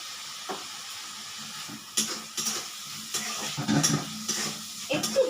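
Sizzling of salt and turmeric in a hot pan with intermittent stirring scrapes, hissing steadily at close range, no voices.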